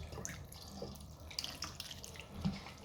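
Salted sausage casings rinsed in water make faint, soft dripping and trickling sounds, with a few small splashes scattered through a quiet background.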